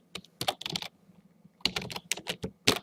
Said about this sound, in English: We're just gonna type in here,